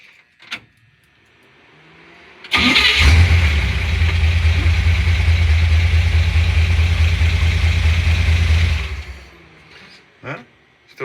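An engine left unused for a long time, with a nearly dead battery, cranks and catches, then idles steadily and loudly for about six seconds before shutting off, with a few clicks and knocks around it.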